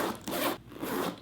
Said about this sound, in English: these zippers are the best zippers on the market. They are so smooth and buttery.